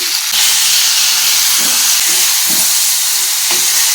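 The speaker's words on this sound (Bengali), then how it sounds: "কড়াইতে এটা এখন ফুটছে মাংসটা" Loud, steady bubbling hiss of meat curry with fried potatoes simmering vigorously in water in a wok, with occasional low knocks and scrapes.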